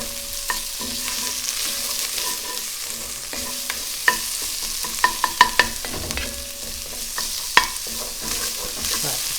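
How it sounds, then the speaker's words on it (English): Tomato paste toasts and sizzles in a hot pan as a spoon stirs and scrapes it, giving scattered sharp clicks over a low, steady frying hiss, close by with no talking. "toast the tomato paste"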